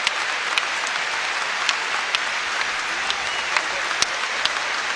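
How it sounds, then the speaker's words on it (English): A home crowd at a North Carolina versus Duke college basketball game applauds the injured Duke player Marquise Bolden, producing steady, sustained clapping from a large arena audience with occasional sharper claps standing out and a faint voice underneath. "And Marquise Bolden getting a nice hand from the crowd here at North Carolina."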